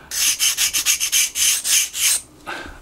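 A sanding stick rubs back and forth over a small wooden part of a 1/84 scale HMS Victory model, giving about ten quick, close, rhythmic scrapes followed by one softer stroke.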